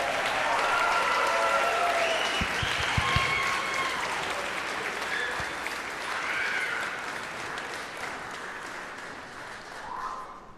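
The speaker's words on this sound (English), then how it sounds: "let's give the 8th grade orchestra a round of applause for joining us this evening" A concert audience applauds the 8th grade orchestra at a school pops concert, steady clapping throughout with a few whoops and cheers rising over it, fading gradually toward the end.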